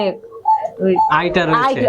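Pigeons at a pigeon farm give close, loud cooing calls mixed with a person talking nearby.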